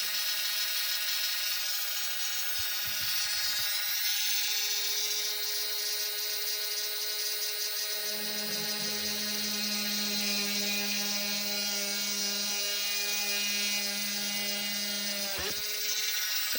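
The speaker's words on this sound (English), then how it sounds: "And this little drill I got on Temu a long time ago" A small electric hand drill bores holes in fabric jewelry, a thin high whir held steady for long stretches, with a lower motor tone rising partway through and brief handling clicks.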